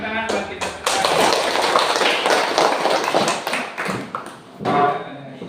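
A classroom group breaks into dense applause that lasts about three seconds, then thins into a few scattered claps, with a voice talking around it.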